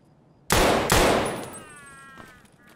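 Unsuppressed gunfire in Escape from Tarkov, two loud, sharp cracks in quick succession, very close, followed by a ringing echo tail that slowly fades, no speech.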